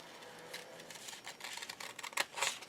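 Scissors snipping across a paper tag envelope in a handful of quiet, close cuts, soft and brief with faint rustling between them.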